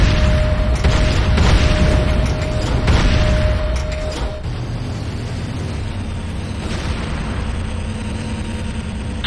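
Heavy explosions rumble and boom as GDI infantry barracks come under attack in Command & Conquer: Renegade, dense and loud in the first half, then settling into a steady lower roar of battle.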